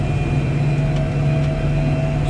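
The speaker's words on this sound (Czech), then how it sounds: "Ten samý traktor tady." A farm tractor on the road during the corn harvest gives a loud, steady low engine drone with a constant hum that fills the short stretch, close by and with no talking over it.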